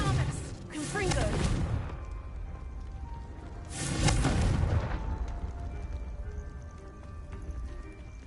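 Two heavy blasts from the Confringo spell in Hogwarts Legacy, the first at the start and the second about four seconds later, each a loud booming burst that fades into a rumbling background.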